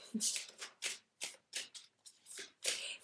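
Tarot cards are shuffled by hand in quick, crisp riffling bursts, about eight of them in a loose rhythm, close up and quiet, with no talking.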